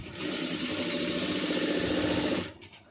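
An electric sewing machine stitches thread piping onto cloth in one steady, fast whirring run lasting a couple of seconds, close and fairly loud, then stops with a few small mechanical clicks.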